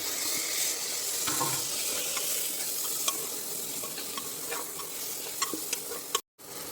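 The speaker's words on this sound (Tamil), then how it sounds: "நல்லா வெங்காயம் வதங்கிச்சு. இந்த ஸ்டேஜில் என்ன பண்ணலாம்னா இஞ்சி பூண்டு பேஸ்ட் ஆட் பண்ணிக்கலாம்." Onions sautéing in a hot pan with ginger garlic paste, a steady close sizzle and frying hiss broken by light scrapes and taps of a stirring spoon, with no talking.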